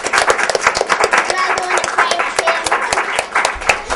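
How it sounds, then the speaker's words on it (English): A school audience gives the debate team a round of applause after a formal debate, dense lively clapping that stays full and steady from start to finish. "We'll give them a round of applause."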